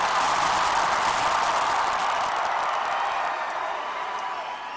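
A large, loud crowd roars and cheers at a Bernie Sanders rally in Oklahoma City, a steady dense wall of voices and clapping that eases slightly toward the end.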